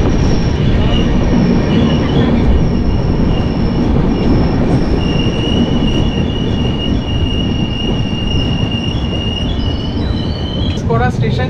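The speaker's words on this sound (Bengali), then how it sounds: "ট্রেন এখন ঢুকলো ঘুষকরা স্টেশনে, আর এখানে স্টপেজ টাইম হচ্ছে 1 মিনিট।" Train at Ghuskara railway station, loud continuous rumble of wagons with high-pitched wheel squeal throughout, clattering up close.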